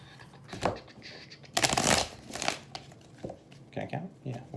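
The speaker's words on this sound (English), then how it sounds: "3 more shuffles." Cards are riffled and shuffled in several quick bursts, with a louder crisp riffle in the middle, close up, with brief talking between shuffles.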